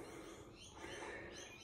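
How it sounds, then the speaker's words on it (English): Outdoor birds chirp and tweet busily in quick, overlapping calls, moderately distant and fairly faint, over a low ambient rumble, with no talking. "The birds are just going crazy today."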